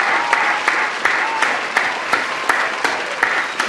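Sustained clapping from a group fills the clip, dense and steady with a few louder individual claps standing out.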